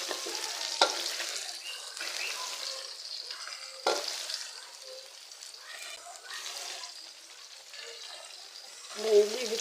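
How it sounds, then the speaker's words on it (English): Potato chips fry in hot oil with a steady broadband sizzle, broken by a few sharp clinks and scrapes of a spoon stirring the pan; no one speaks. "And then you leave it to fry."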